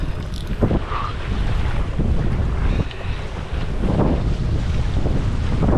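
Headwind gusts roar across a gravel pit lake, buffeting the microphone with steady loud rumbling and brief swells, no voices present.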